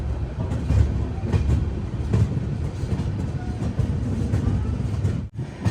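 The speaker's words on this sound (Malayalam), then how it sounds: "മംഗളൂരു ജംഗ്ഷൻ സൈഡിൽ നിന്ന് ഒരു ട്രെയിൻ വരുന്നുണ്ട്" A train rolls past on the railway track near Mangaluru Junction, a steady loud rumble with rhythmic clickety-clack of wheels over rail joints, continuous and close, with a brief dip near the end.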